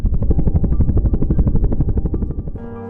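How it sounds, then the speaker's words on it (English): Helicopter rotor blades thump in a fast, steady chop, loud and close, then fade abruptly into a brief tonal hum at the end. "Helicopters on the roof of my house."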